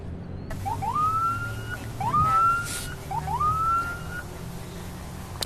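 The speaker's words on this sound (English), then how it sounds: "Heard the sirens there." An airport authority siren whoops upward three times in regular rising sweeps to scare off birds at Louisville's UPS Worldport, moderately loud over a steady low background rumble, with no voices.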